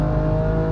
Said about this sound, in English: Oh, those gear shifts are so Cool.